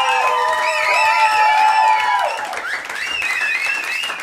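Applause from a live audience after a music performance at a radio station, clapping and some cheering heard under sustained tonal sounds, with whistles or voices gliding above the crowd noise.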